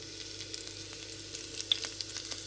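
Curry leaves hitting hot oil with fenugreek seeds and dried chilies for mango pickle tempering, a brief steady crackling sizzle with small pops, close and moderately quiet.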